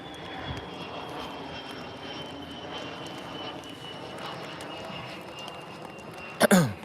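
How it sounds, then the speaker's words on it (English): A fast cargo jet flying overhead, a steady distant engine roar sustained across the whole stretch, with a brief close cough or throat clear near the end. "that's a fast plane. Look at that. Where's that going? It's like a cargo jet."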